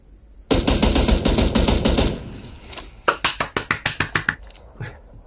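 Gunfire in the PUBG video game: a dense burst of automatic fire for about a second and a half, then after a short pause a rapid string of about ten loud, evenly spaced single shots.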